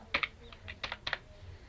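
A computer keyboard is typed on in short, quiet bursts of close keystrokes, a few quick clicks at a time with brief pauses between them.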